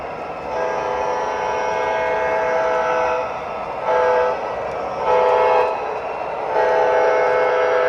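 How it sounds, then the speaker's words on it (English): A model train runs into a yard at restricted speed, its horn sounding in several loud, sustained blasts over a steady mechanical rumble. "Slow our speed in the slow speed, and then when we have to get to restricted as we enter the yard over here, Mike, on the far side."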